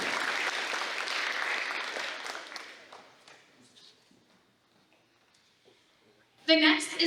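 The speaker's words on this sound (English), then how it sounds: "Please give a big round of applause to Casper Ball." An audience at a school invention convention award ceremony applauds steadily for a few seconds before the clapping fades out, followed by a short quiet gap and then a sudden new burst of sound.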